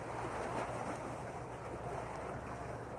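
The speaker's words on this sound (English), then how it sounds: "it was a tiny boat. It makes quite some waves." Waves stirred up by a tiny boat on the Moselle river wash and lap steadily, a soft continuous sloshing with some wind rumble, no voices.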